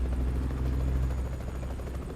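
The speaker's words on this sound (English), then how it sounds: "Helicopter." A helicopter passes overhead, its steady rotor thump and engine drone loud and continuous throughout with no talking.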